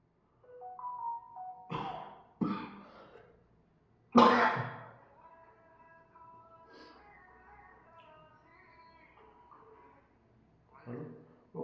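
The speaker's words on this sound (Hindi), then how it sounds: "वो खांसी है" Several sharp coughs and throat-clearing bursts come up close in a quiet room during an exercise session, spaced apart, with soft speech between them.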